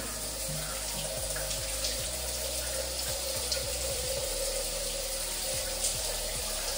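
Water runs from a shower tap in a steady, close hiss and splash, continuous and unbroken with no talk over it.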